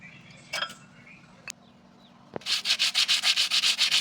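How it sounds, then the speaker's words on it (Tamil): A car brake pad is scraped back and forth on emery paper during a service of a Suzuki Alto K10 K-Series, about a dozen rhythmic close sanding strokes following a few isolated taps and knocks. "பேடை நல்லா தேய்ச்சி போட்டுக்கணும் எம்ஆரி பேப்பரில்."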